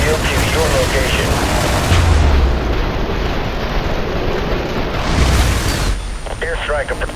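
Gunfire and explosions from an IS Defense harbor-level game, with dense loud rumbling bursts and booms that continue throughout, and radio-style voices talking over the battle at the start and end.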